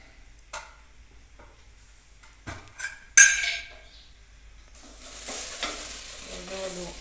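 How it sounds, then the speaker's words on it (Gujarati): Green onions fry in a pan while being stirred, with scattered scrapes and clinks of the utensil, then a rising hiss of sizzling in the final seconds; a faint voice murmurs in the background. "આપણે વાર લઈને આપણે હલાવવું પડે તો હલાવી લઈએ છીએ અત્યારે નહીતર ડુંગળી દાજી જશે"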